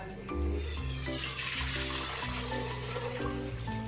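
Starchy water from cooking rice for mutton biryani pours steadily through a strainer into a pot below, a continuous close splashing rush.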